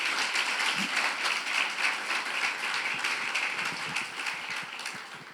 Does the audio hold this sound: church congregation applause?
yes